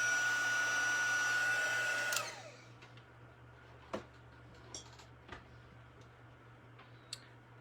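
A hot craft heat tool blowing on embossing powder, a steady loud whooshing drone that cuts off after about two seconds, followed by quiet room tone with a few sharp ticks and clicks.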